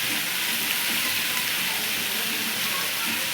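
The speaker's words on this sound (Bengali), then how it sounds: "এগুলো এবার ভালো করে ভেজে নেব।" Large-cut potato pieces fry in hot oil in a home kitchen pan, giving a steady, even sizzling hiss that carries on without pause throughout.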